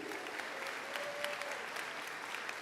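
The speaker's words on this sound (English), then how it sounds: "give yourself a round of applause" Graduating classmates give themselves a round of applause, a continuous, even patter of many hands clapping at moderate volume, with a faint voice briefly audible.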